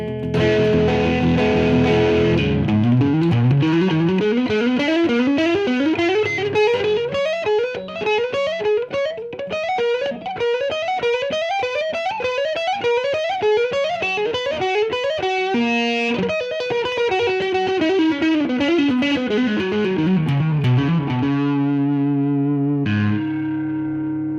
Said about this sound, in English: it does sound like an overdrive